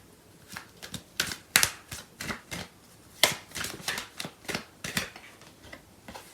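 Tarot cards being shuffled at close range, giving repeated crisp riffling bursts of card stock in an irregular rhythm with short pauses, and no talking.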